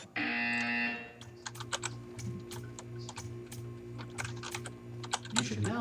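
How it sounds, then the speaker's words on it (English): A buzzer from the video game Portal 2 sounds as a loud, steady tone for about a second, followed by a series of sharp clicks over a low background hum. "You will hear a buzzer."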